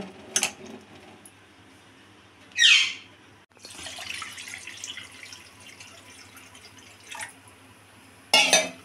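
Pointed gourds are being washed, with short bursts of splashing, running water separated by quieter gaps and a few drips, heard up close.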